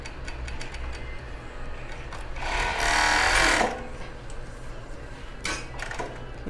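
A sewing machine stitches fabric over a bra cup, a steady mechanical whir that swells for about a second in the middle, with quieter handling noises around it and no speech.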